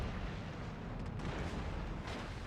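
Heavy battleship guns fire in World of Warships, aboard the French ship Strasbourg, a dense sustained rumbling roar of artillery that stays loud throughout without clear breaks between shots.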